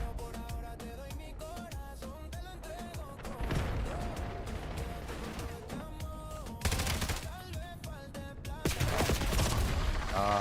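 Rapid gunfire bursts from the Call of Duty video game, several loud volleys cutting in over continuous game music.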